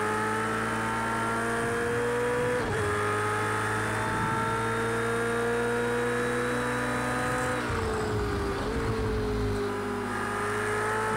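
Race car engine in Project CARS 2 racing game accelerating hard through gears, a steady loud multi-tone roar with upshift dips near the start and later, continuous and alone without talk.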